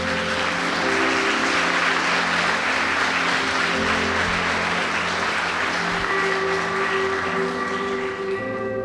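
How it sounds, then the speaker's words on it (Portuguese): Church congregation applauding loudly to the Lord during a Portuguese-language sermon, a dense sustained wash of clapping with a steady tonal hum underneath, continuous and close throughout. "Se você concorda, dê um aplauso ao Senhor bem forte."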